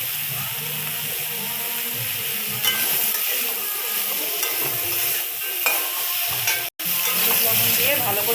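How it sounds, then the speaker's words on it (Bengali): White mustard seeds tempering in hot oil for a vegetarian Bengali dish give a steady crackling sizzle with light stirring, close and continuous, interrupted by one brief sharp clatter near the end. "এর মধ্যে একটু সাদা সর্ষে ফোড়ন দিচ্ছি।"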